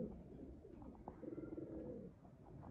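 Sialkoti pigeons coo in soft, repeated low burbles, faint and somewhat distant, with a few light chirps around them and no talking.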